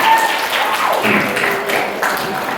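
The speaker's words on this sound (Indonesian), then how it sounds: "Boleh tepuk tangan sekali lagi." A short burst of audience applause at an Islamic junior high school graduation ceremony in Balangan, fairly loud and dense, with faint tonal sounds and murmur underneath.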